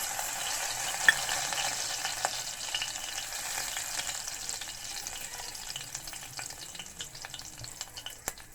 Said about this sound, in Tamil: இப்போது இந்த சீரகம் சோம்பெல்லாம் போட்டுடலாம்